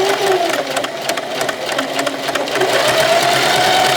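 A sewing machine runs steadily and loudly up close while it stitches a hat, with a continuous motor whir and rapid needle clatter.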